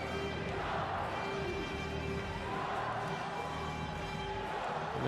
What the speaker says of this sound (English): you can hear the crowd going crazy, and that's because this is the gold medal match